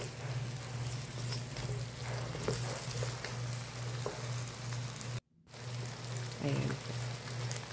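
Balut with bacalao sizzles in a pan as a steady, dense crackling fry. A brief dropout cuts in near the end before the sizzle resumes.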